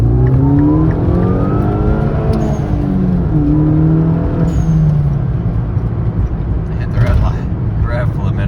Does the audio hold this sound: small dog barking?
no